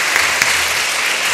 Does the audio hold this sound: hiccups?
no